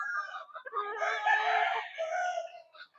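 A six-year-old Ormoc Gold gamecock rooster crows close by, one long strained cock-a-doodle-doo rising and breaking off, with softer clucks around it.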